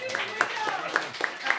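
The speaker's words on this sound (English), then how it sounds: "Can we clap for the new Arts Cafe?" Light clapping from a small audience at a poetry event in a new arts cafe, a handful of distinct claps in a loose rhythm, with voices murmuring underneath.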